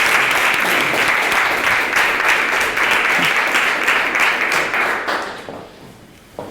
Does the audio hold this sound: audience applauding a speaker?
yes